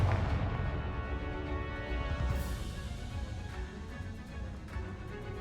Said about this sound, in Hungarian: Mennyi robbanó hordó van ott? Én ezt fel akarom robbantani.